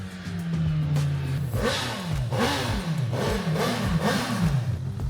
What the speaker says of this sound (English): I think I might hear a motorcycle.